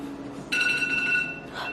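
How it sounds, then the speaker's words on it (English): A phone alarm sounds up close, a steady electronic tone that starts abruptly and holds for about a second over a quiet room. "My phone keeps going off because I have alarms to watch shows and stuff."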